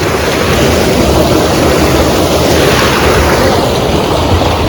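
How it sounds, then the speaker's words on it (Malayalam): Water gushing out of an opened garden pond makes a loud, steady, rushing roar that holds unbroken for the whole stretch, with no voices. "ഈ കുളത്തിലെ വെള്ളം തുറന്നു വിട്ടേക്കു കേട്ടാ"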